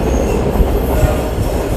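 The Trenino Verde, a small tourist train crossing the Sardinian countryside, rumbles loudly from on board. A dense, steady roll of wheels and carriage noise fills the short stretch.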